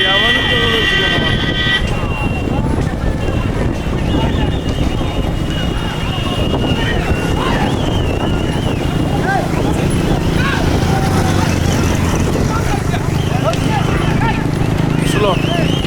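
Bullock hooves clatter steadily during a bullock cart race amid a loud, busy crowd, with people shouting and talking throughout and engine noise underneath.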